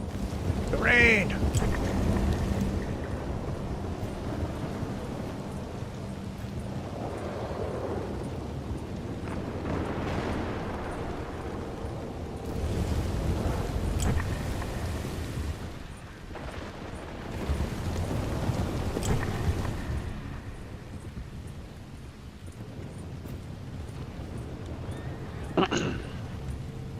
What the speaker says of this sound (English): Now it's beginning to rain, which makes it a lot more difficult as well.